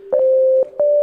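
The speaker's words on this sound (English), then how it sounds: "that's a sine wave there" A single-operator synthesizer plays a pure sine tone, a steady sustained pitch held for about half a second, briefly cut, then resumed, with soft clicky onsets at each start and stop.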